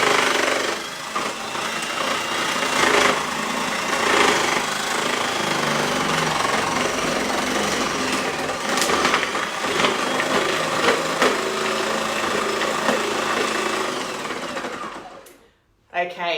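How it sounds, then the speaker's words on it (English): A loud, steady whirring motor with a rough, rattling grind runs continuously for most of the clip, cutting off abruptly near the end. Magimix food processor grating carrots. "that's quite loud when I've got my Magimix going"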